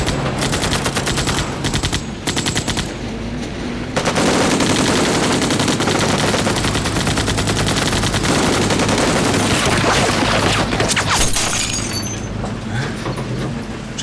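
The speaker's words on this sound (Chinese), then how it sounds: "我射击。" Sustained automatic gunfire hammers at a fleeing vehicle in a war drama, loud and close, in long unbroken machine-gun bursts with a brief lull, then heavier firing mixed with clattering impacts.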